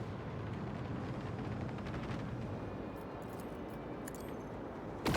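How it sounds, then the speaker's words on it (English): A sustained rumbling blast and crackle from a big explosion in the Warhammer 40,000 game Rogue Trader, loud and dense for about five seconds, with a sharp burst right at the end. "Explosion."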